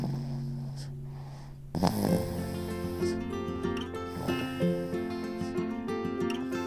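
A person snoring with slow, rough breathing, heard alone over a low musical backing that swells partway through.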